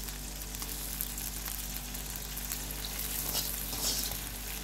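Fish pieces fry in a hot pan, giving a continuous, close sizzle with irregular spitting crackles that swell slightly toward the end, heard alone without speech.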